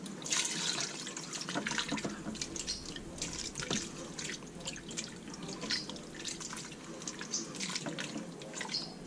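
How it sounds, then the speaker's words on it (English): A can of water is poured into an Instant Pot, giving a steady, splashy, trickling flow that continues for several seconds at moderate loudness with no talk. "to that we're going to add 1 can, the same can that the beef consomme was in, of water"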